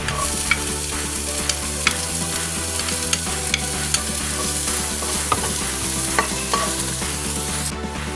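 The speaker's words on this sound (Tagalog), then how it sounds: "Magigisa po tayo. Magigisa itong luya. Itong bawang." Ginger and garlic sizzle steadily in hot oil in a pan, with the clink and scrape of stirring against the metal throughout, loud and close, with no voices.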